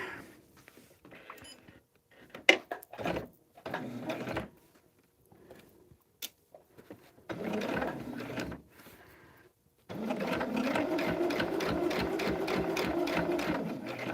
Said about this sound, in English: now we're going to sew this together